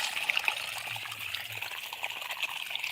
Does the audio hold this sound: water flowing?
yes